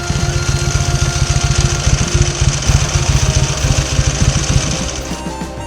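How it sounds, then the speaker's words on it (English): A 1954 Victoria Bergmeister V35 S motorcycle engine runs close by, with a loud, rapid, regular thumping beat that holds steady for several seconds and eases slightly at the end. "Victoria Bergmeister V35 S 1954. Such a cool bike."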